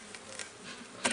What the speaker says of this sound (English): bees you got everywhere